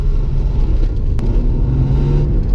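A BMW E36 engine rumbles steadily while the car drives down the road, a loud, low, continuous drone with road noise and no talking.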